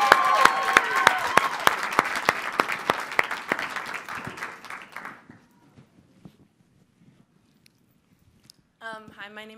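An audience at a scholarship event claps for a young poet, brisk clustered applause for about five seconds that thins to scattered claps, then silence and a voice starting to speak.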